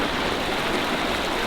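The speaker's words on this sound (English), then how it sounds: "stream where the water is moving fast. You can see that there's white water moving quickly down between rocks" Fast-moving river water rushes down between rocks as white water, a steady, dense roar of flow that stays constant and fairly close throughout.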